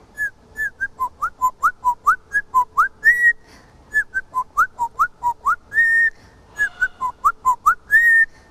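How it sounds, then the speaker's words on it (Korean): A parrot whistles a bouncy tune of short rising notes in quick succession, broken by a few longer held tones, close and clear with no talking. "기분도 좋으니까 휘파람 불러보자."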